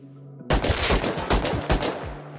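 Gunfire in the game Rust: a burst of loud, close shots starting abruptly after a quiet lead-in and running for about a second and a half, with several sharper cracks standing out before fading.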